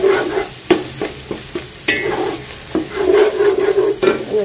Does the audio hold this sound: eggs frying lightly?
yes